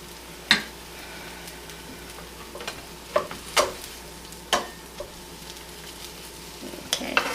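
Strawberry and cream cheese stuffed French toast sizzles steadily in a pan, a soft continuous frying hiss broken by a handful of sharp clicks and taps from turning or stirring, close and without talk.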